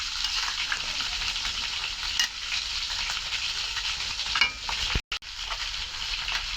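Eggplant frying in a pan of koi fish curry gives a loud, continuous close sizzle that crackles steadily and briefly cuts out near the end before resuming.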